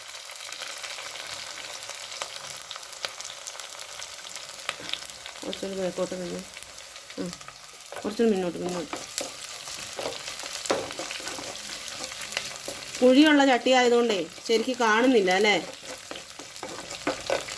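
Onions fry in a deep pan on a gas stove, giving a steady, soft sizzle throughout. Someone talks over it at intervals.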